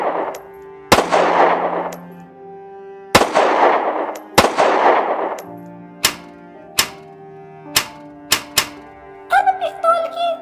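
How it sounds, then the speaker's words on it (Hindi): Pistol gunshots in a dramatized supernatural snake-woman story: about eight sharp, loud cracks spaced irregularly across the clip, each ringing over a steady bed of background music. "तुमने गोली चलने की आवाज सुनी?"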